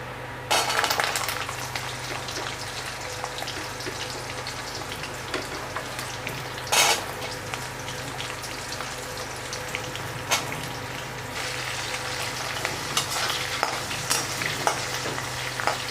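Chopped onions frying in hot oil with cumin seeds for a cluster beans chutney, a steady close sizzle with occasional louder crackles and stirring scrapes throughout, no voices.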